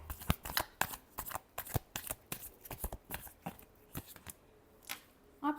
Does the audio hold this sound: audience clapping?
no